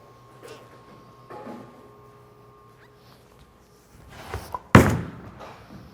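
Brunswick Ethos Hybrid bowling ball rolling down the lane, then a sudden loud crash as it strikes the pins, with the pins clattering and scattering after the impact near the end.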